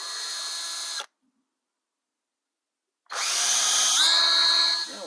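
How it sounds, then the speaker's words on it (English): A power drill drives wood screws into a wooden stand in two loud close bursts, about a second of whirring, a two-second pause, then a longer run of about two seconds that rises in pitch partway through. "I can install it in place with a couple of wood screws."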